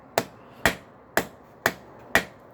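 A ball peen hammer taps hot steel to knock scale loose, five sharp metallic strikes at an even, unhurried pace about half a second apart, close and clear with nothing else heard.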